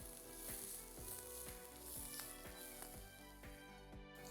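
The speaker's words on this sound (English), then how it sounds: "I'm going to saute it till it softens." Chopped onion sauteing in a pan, a steady close-up sizzle and crackle of frying with soft stirring touches, continuous and even throughout.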